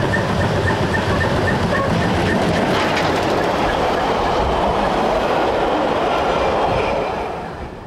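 Steam train running on the line between Landquart and Disentis, past small villages along the Vorderrhein; steady loud rumble and clickety-clack of wheels on rails throughout, fading slightly at the end, with no voices.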